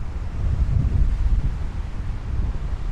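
Gusty wind on a hillside in inland Croatia roars against the microphone as a loud, continuous low rumble that swells and eases over a few seconds, with no voices.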